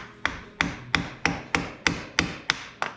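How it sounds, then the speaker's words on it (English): A heavy hammer taps lightly and evenly on the rear differential of a 2007 Yamaha Grizzly ATV, eight crisp metallic strikes at a steady pace, close and clear with no talking. "I like to use a good hammer, a bigger one that has a little weight behind it, and just tap it lightly."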